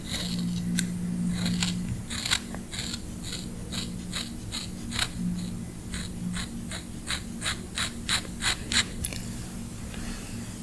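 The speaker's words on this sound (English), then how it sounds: "Okay, we're going to cut it. We are going to cut it." Scissors snip thread in a series of short, crisp cuts, close to the mic and quiet, quickening into a rapid run of snips toward the end over a soft background hum.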